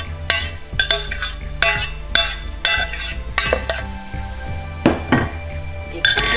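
Pancake batter with vanilla sugar and melted butter is mixed in a bowl, a close run of rhythmic clinks and scrapes as a utensil strikes the dish again and again, loud and busy throughout.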